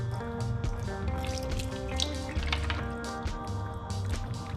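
Leftover water dripping and trickling from a BMW coolant reservoir during a DIY removal, a steady close wet patter with small splashes, fairly quiet, with no talking.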